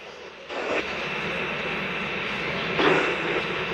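Falcon 9 rocket engines during supersonic ascent: a deep, continuous roar rumbles steadily at a distance, with occasional crackling surges in loudness.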